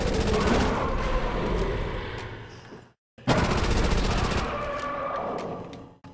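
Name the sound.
Thompson submachine gun firing in video game World at War Zombies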